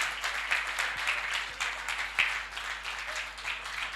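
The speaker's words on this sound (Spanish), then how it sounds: "Dele un aplauso fuerte al Señor" During a church service, a standing congregation gives loud applause, with many hands clapping together, a few sharper individual claps standing out, and the sound swelling and easing in uneven waves.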